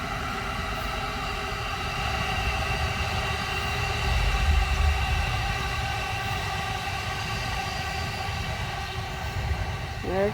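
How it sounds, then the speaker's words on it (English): A train rumbles past steadily for the whole stretch, a continuous loud mechanical roar with no voices over it. "And here comes the train."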